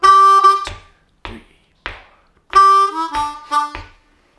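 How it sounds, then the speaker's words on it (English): Blues harmonica plays a turnaround lick: loud, reedy sustained draw notes and short stabs with gaps between, then a quicker run of bent notes, alone and close. "your first turnaround lick is gonna sound like this"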